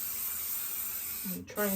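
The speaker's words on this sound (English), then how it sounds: "I'm just giving it a good spray so I know it's going to stick." An aerosol spray can hisses steadily as it coats the back of a lampshade cover, one long continuous spray close up before it cuts off, followed by a brief voice.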